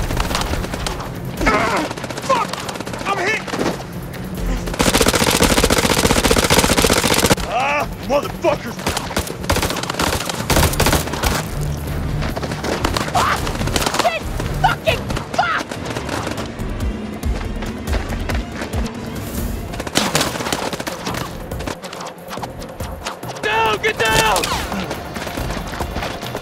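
Heavy gunfire exchange in the video game House of Ashes on PS5: dense bursts of automatic fire and booming shots run throughout, with a loud sustained fusillade early on, while voices shout over the battle.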